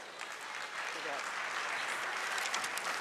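Applause from a banquet audience at a university academic and athletics awards event, greeting an award presenter. The clapping is fairly soft and distant, with a voice faintly audible underneath.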